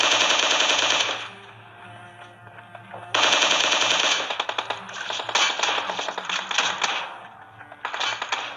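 SCAR rifle fire in a battle royale video game: loud, rapid automatic bursts with short gaps between them, then a final burst after a pause.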